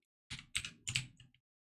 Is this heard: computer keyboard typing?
yes